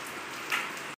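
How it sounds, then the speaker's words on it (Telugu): Heavy rain falling outside a house, a steady close hiss of downpour with no voices, lasting only a moment before cutting off. "చూడండి ఎంత వర్షం పడుతుందో"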